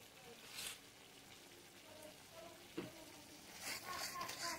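Mixed winter vegetables sizzle faintly in a pan while being stirred, a soft, low hiss broken by occasional scraping strokes, with a quiet voice talking at times.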